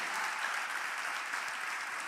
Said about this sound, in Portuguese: Pode dar um aplauso a Ele.